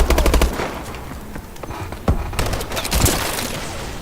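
Bal-27 assault rifle in Call of Duty Advanced Warfare firing loud, rapid automatic bursts up close, with short gaps between volleys and no voices.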